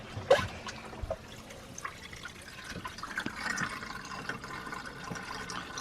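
Steady trickling and splashing of water draining from a washing machine in a travel trailer after the rinse, a continuous low wash with a few small drips and knocks, fairly quiet and close.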